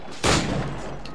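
A gunshot in the video game Assassin's Creed IV Black Flag during a ship battle, one sharp loud blast that decays into a rumbling tail, with no talk over it.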